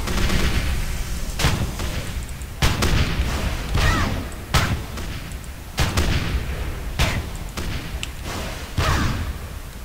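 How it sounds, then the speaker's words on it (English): Shotgun blast skill in the Tera game fired repeatedly in a solo dungeon run, heavy booming thuds landing roughly once a second or so over a continuous rumble of combat. "I love how the shotgun blast works."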